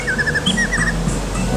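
A male chim lửa songbird with a long tail sings at a bird market, a series of bright whistled phrases repeating over a low murmur of crowd and street noise.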